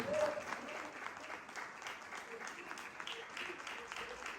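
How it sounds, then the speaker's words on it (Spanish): A church congregation applauds in a steady, faint wash of clapping heard from a distance, with a voice speaking over it. "Denle un aplauso con ganas a Dios."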